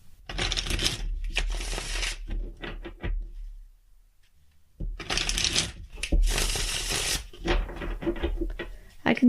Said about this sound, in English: I'm going to do a really good shuffle of the Robin Wood Tarot.